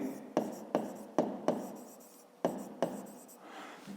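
A pen writes on paper during a fifth-grade maths exercise, six or seven sharp strokes and taps in an uneven rhythm, each trailing into soft scratching, close and clear.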